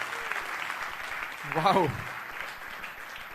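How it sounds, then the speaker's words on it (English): An audience claps at an engineering talk event, a steady wash of applause running throughout while a single voice briefly exclaims near the middle. "Clap your hands, please."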